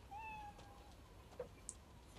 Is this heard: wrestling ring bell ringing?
no